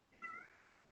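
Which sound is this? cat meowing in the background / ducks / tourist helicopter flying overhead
cat meowing in the background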